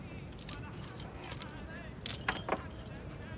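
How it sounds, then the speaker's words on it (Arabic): Old keys on a keychain jangle and clink in several bursts, louder toward the end, with faint room noise beneath. "هاتي سلسله مفاتيحك القديمه"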